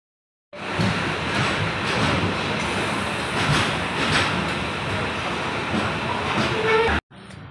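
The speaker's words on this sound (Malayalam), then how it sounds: "ഈ ട്രെയിൻ മുമ്പോട്ട് പോയിക്കൊണ്ടിരിക്കുമ്പോൾ" Train on the Guruvayur to Madurai route rolling along the tracks, a steady loud rumble with faint clickety-clack that runs unbroken, then cuts off abruptly near the end.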